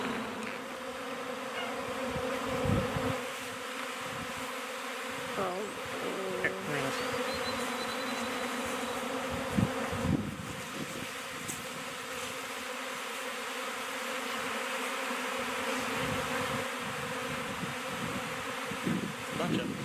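A honeybee swarm buzzes steadily and densely throughout, a continuous hum of many bees near and around, with occasional louder passes and faint voices underneath.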